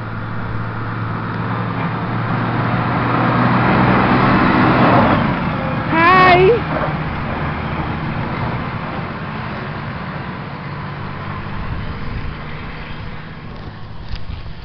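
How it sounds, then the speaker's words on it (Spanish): A snow collection truck rolls past on a snowy street, a steady broad rumble of engine and road noise across the whole stretch, swelling slightly midway with a brief tonal whine, then easing off. "Ahí viene el carro que recoge la nieve."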